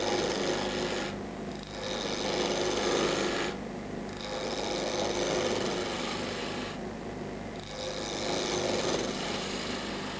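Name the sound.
spindle gouge roughing out wood on a lathe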